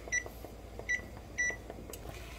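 Kitchen timer being set for one minute while making blueberry jam, three short electronic beeps in an uneven row over a quiet kitchen background.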